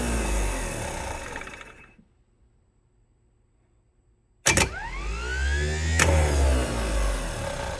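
A repaired 1969 Oldsmobile Cutlass S starter motor runs on a bench test. Its whirring winds down to near silence, then it kicks on with a sharp clunk and a rising whine, followed by another jolt as it keeps spinning loudly.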